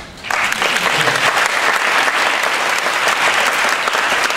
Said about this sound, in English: Okay, you can clap first.